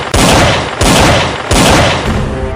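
Loud revolver gunshots crack out in quick succession, three heavy blasts each trailing into a long echoing decay, close and alone with no voices.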